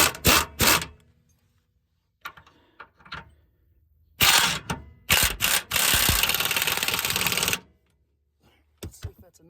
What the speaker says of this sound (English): I'll start by tightening up some of these rear bolts.